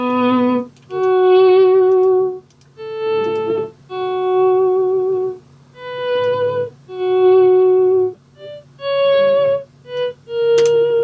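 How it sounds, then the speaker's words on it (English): Sustained guitar tones fade in smoothly one after another, each swelling up from silence without a picked attack, forming a slow, airy sequence of notes. "what's called a swell, or a volume swell track,"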